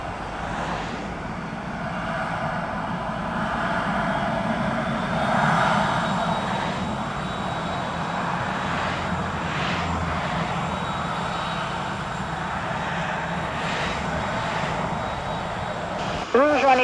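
An airliner rolls down the runway for takeoff with a steady, heavy jet engine roar, distant and continuous, while a voice speaks faintly over it.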